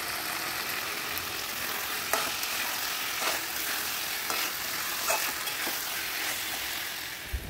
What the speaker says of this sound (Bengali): মশলাটা এখানে দেখো আমি কষাচ্ছি, বেশ লাল লাল হয়েছে দেখতে